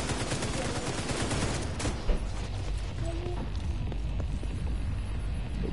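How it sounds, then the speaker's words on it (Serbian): A grenade explodes in a PS4 shooter game, a dense burst of crackling gunfire giving way to a single sharp blast around the two-second mark, followed by a quieter rumbling tail and scattered game noise. "Bomba eksplodira"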